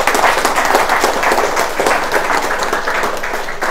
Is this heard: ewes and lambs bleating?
no